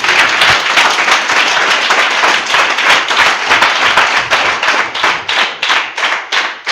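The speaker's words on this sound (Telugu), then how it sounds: "గట్టిగా చప్పట్లు కొడదాం" A church congregation claps loudly and steadily together, a dense wall of hand claps that runs the whole time with quick, slightly uneven beats and no voices over it.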